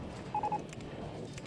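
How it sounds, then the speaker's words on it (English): Game notification chimes from RollerCoaster Tycoon 2, a quick run of three short, bright electronic beeps near the start, then only quiet background noise. "Lots of notifications."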